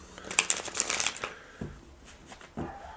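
A deck of tarot cards being shuffled, a quick rapid riffling flutter at the start followed by a few softer card slides and taps, close and clear with no talking.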